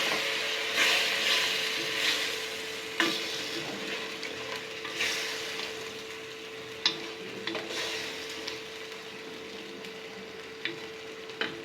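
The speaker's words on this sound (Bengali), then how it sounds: "এখন আমি মশলাটা কষিয়ে নেব সুন্দর করে।" A spice paste for potato curry sizzles and fries in a pan while a utensil scrapes and taps against the metal now and then, steady and close.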